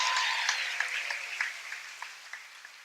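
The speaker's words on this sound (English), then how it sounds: "round of applause" An audience at a school staff day event claps in a brief round of applause that starts fairly strong and gradually fades, with no voices over it.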